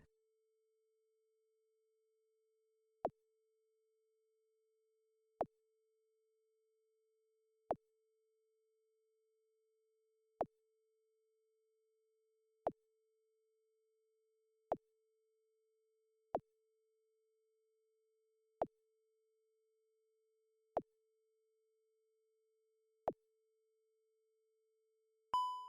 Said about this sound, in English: Listen, the phone.